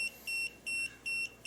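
A clamp meter's live-voltage detector alarm gives four short, regular high-pitched electronic beeps with brief gaps between them, clear and alone.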